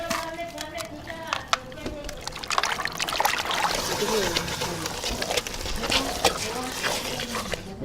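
Water splashes and trickles as raw chicken is rinsed for Ethiopian doro wat, irregular sloshing close by with people talking over it.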